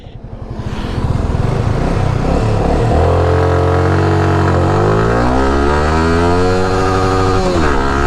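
A Yamaha R15 V3 motorcycle engine cranks and fires, then settles into a loud close idle and revs up with rising and falling pitch, steady and alone with no talk.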